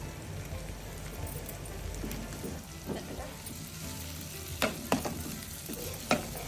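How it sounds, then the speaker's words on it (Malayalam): A wooden or metal spoon stirs ground roasted spice paste into Kerala-style beef curry in a pan. The sizzle and scraping run continuously, with a few sharp clinks near the end and no talking. "അതിനുശേഷം നമുക്ക് മറത്തരച്ച് വെച്ചിരിക്കുന്ന അരപ്പ് അതിട്ട് കൊടുത്ത് നന്നായി വീണ്ടും ഇളക്കി കൊടുക്കണം"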